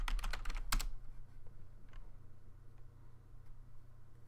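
A computer keyboard clatters with a quick burst of close keystrokes as a command is typed, then a few sparse isolated taps follow in a quiet room.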